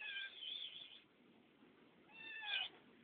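A cat meows twice, two faint, thin cries about two seconds apart over a quiet background.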